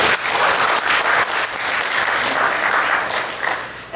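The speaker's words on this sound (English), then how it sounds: "Can you give Professor Polinar a round of applause?" A seminar audience applauds Professor Polinar after a research talk, dense sustained clapping filling the room steadily and loudly from start to finish.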